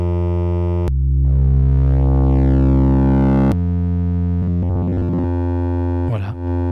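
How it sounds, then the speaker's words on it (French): Recorded wavetable played back on a 4ms Spherical Wavetable Navigator synth module: a steady tone starts abruptly, sweeps through shifting harmonic timbres with rising partials, then changes texture and flickers through short stepped segments before settling, loud and alone. "On peut écouter maintenant notre wavetable enregistré."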